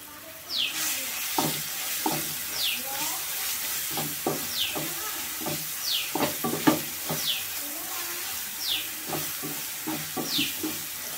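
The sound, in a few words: onion chili paste frying in a pan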